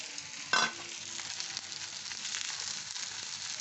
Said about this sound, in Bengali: এবার আমি এই যে ভাজা মাছটা দিয়ে দিচ্ছি